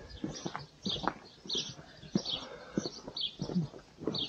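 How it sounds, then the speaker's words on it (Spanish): Small birds chirp in a quiet village in short repeated bursts, fairly faint, mixed with soft rhythmic knocks. "Solo se oyen pajaritos."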